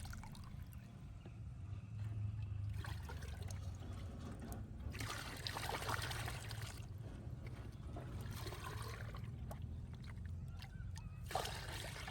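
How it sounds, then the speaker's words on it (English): Yeast fertilizer mixture being stirred into clean water in a garden bucket, a steady sloshing and swirling of liquid with soft splashes that continues throughout at close range, with no voices. "Give it a good, deep stir so everything is distributed evenly."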